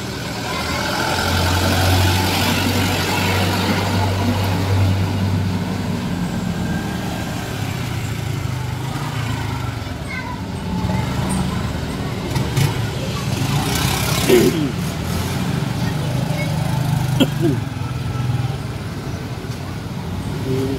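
A small boat's outboard engine, rated 6.5, runs steadily and loudly up close as a continuous droning rumble throughout, with faint voices now and then under it.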